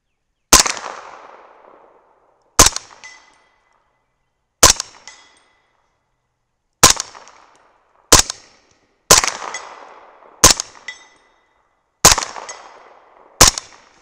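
A 300 Blackout rifle firing at a steel plate, nine sharp loud shots at irregular intervals, each followed by a ringing metallic decay and brief echo.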